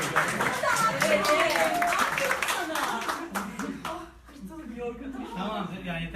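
A live-broadcast studio crowd breaks into a round of clapping for a girl who has just faced her fear of dogs, steady hand claps running under loud, continuous talk before easing off near the end.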